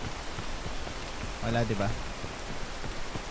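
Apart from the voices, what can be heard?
rain in video game Peak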